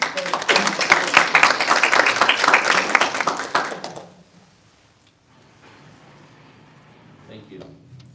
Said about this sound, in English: if they can both stand up and we can applaud you